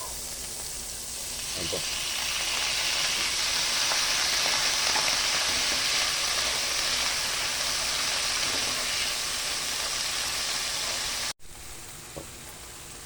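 Tomatoes sizzling and frying in a hot pan for Filipino tochong bangus, a loud steady hiss with faint stirring clinks, a sharp drop near the end, and a brief voice speaking over it.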